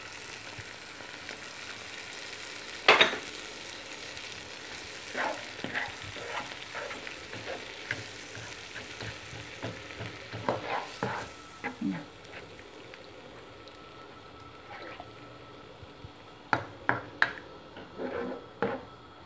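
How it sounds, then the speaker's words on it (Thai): Coconut milk simmering and bubbling for a Thai red pork curry, a steady soft sizzle with occasional stirring and scraping sounds close by, no talking. "กะทิที่เหลือเทลงไปเบิดเลยแล้วก็เคี่ยวไป"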